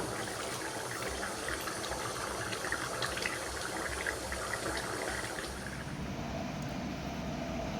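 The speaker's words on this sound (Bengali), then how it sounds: "এবার একটু জল দিয়ে ফুটিয়ে নিলাম।" Water added to a simmering home-style curry brings a dense, continuous bubbling boil that stays fairly loud and even throughout, heard close up with no voices.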